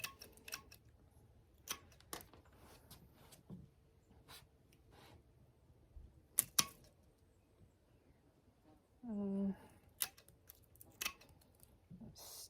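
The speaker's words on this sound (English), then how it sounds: "work our way in, cutting off a little bit more each time" Pruning shears snip branches on a frost-damaged container citrus tree in crisp, scattered clicks spaced a second or two apart, faint and close against a quiet background, with brief rustling.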